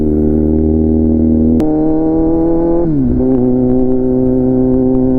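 A motorcycle engine revs close up to warm the tires, its steady tone stepping up in pitch twice in distinct shifts with no talk.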